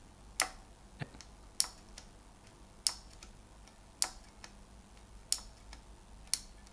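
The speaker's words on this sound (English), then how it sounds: "with the Cherry MX Blue switches, there is a noticeable sort of click as you go down" Mechanical keyboard keys with Cherry MX Blue switches on an iQunix S87, pressed one at a time: seven or so sharp, crisp clicks spaced about a second apart, close and clear over a quiet room.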